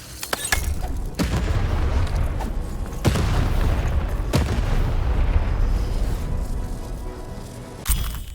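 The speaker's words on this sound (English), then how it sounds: "The button to fire the cannon." Cannon fire booms from the video game Lost in Random, several heavy blasts with sharp onsets at irregular intervals over a rumbling low background, loud and close, with no voices.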